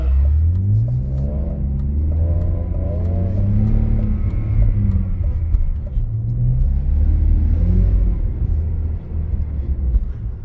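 BMW E46 or E92 engine revving hard while drifting on snow in winter, loud and close with rising and falling harmonic sweeps as the throttle is worked, continuous throughout with no speech.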